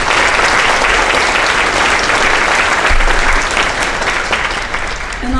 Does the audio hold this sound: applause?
yes